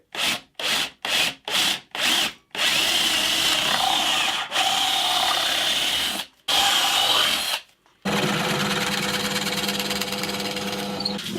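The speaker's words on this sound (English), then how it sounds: "what I'm going to do is just go straight down with a 10mm drill" A 10mm drill bit bores straight down into the wooden body of a hollow body guitar: several short, sharp bursts of drilling, then longer sustained grinding runs separated by brief pauses, loud and close.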